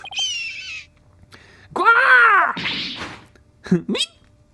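Taka the hawk lets out a loud, shrill, drawn-out cry in Ace Attorney: Dual Destinies. Several separate squawks and sharp calls come in bursts, with short silent gaps between them.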